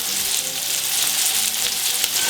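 Food sizzles in a pan of olive oil heated to about 150 °C, a dense, even hiss that stays loud and close throughout with no pauses.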